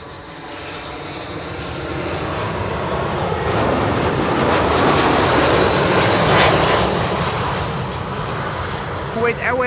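Kuwait Airways airliner arriving at Schiphol airport, its engine roar building steadily and peaking as it passes overhead before easing away, loud and sustained throughout.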